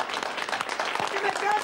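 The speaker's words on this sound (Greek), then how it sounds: "Αυτοί πιο χειροκροτούν, ε." An audience applauds a singer, a dense burst of clapping with people talking over it.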